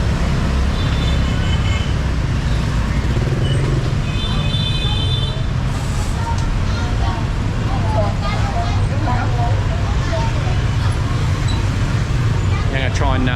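Dense, chaotic street traffic in Vietnam roars continuously, with engines, horns and rumbling vehicles packed close together and loud throughout, while someone talks over the din.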